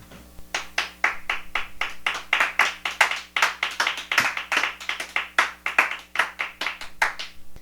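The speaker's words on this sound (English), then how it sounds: "that raucous applause marks the end of another successful episode of On the Porch Radio Hour" Audience clapping closing a live radio show, a close, fairly even run of distinct handclaps that pulses steadily for several seconds, with a low hum underneath and no talk.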